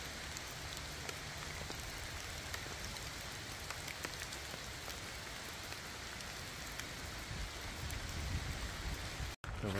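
Steady rain falls in the New Forest woods, a dense even patter on leaves and ground that runs unbroken for about ten seconds, with a brief dropout near the end.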